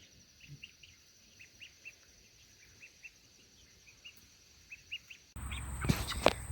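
Ducklings and young meat birds in a pen give faint, high, scattered peeps at an uneven pace, then a sudden loud burst of close rustling and handling noise drowns them out.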